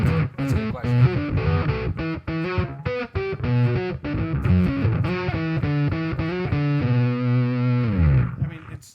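Electric guitar played through a KHDK Unicorn Blood II fuzz pedal with the boost engaged: thick, saturated fuzz in choppy, staccato bursts, ending in a long sustained buzzing note that cuts off.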